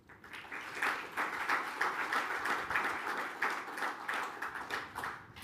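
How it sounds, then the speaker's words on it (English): Modest applause from a small conference audience at an African Natural Capital Alliance event: individual hand claps audible in a loose, uneven rhythm, fading in and thinning toward the end, with no speech. "Might we give them a round of applause?"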